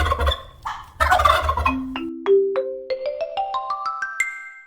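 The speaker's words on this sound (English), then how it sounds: "This is a turkey." A turkey gobbles loudly and close up: a run of rapid, rising, warbling calls repeated several times in quick succession, with no talking.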